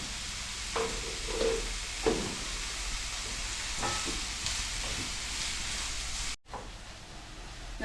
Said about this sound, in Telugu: సన్నగా ఉప్పు వేసి సిమ్లో పెట్టి వేపేసేస్తా చక్కగా